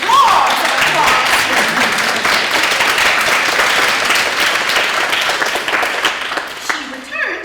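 A large crowd bursts into roaring applause, loud and dense for several seconds, then thins out as a voice begins near the end.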